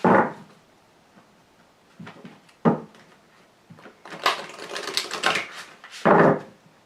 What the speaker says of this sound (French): Je vais trier les cartes.